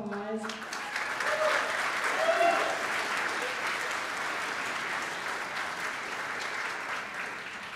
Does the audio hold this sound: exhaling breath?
no